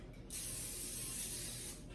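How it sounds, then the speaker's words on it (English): Olive oil cooking spray is sprayed onto a skillet on medium heat: a single steady, close hiss lasting about a second and a half, with no talk. "I'm gonna spray it with olive oil"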